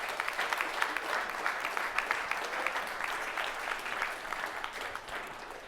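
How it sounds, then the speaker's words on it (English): Audience at a health and safety panel discussion claps in a continuous, even round of applause, moderately distant and fading slightly toward the end. "I'd like to give another round of applause for these three people"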